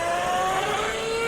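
A Seaglide underwater propulsion motor in the game Subnautica gives a steady, unbroken engine-like whir that holds even and loud throughout, with a brief surge right at the end.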